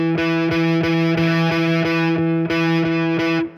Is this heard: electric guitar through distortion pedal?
yes